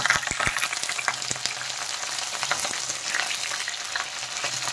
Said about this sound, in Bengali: দেখেন উল্টে পাল্টে কিন্তু আমি ভালো করে ভেজে নিচ্ছি।